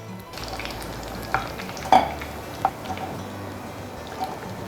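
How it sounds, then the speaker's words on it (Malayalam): Fish and chips frying in oil produce a soft, continuous sizzle close by, with a few sharp clinks and scrapes from stirring scattered through it. "ഫിഷ് നല്ല ഫ്രൈ ആയിട്ട് വന്നിട്ടുണ്ട്."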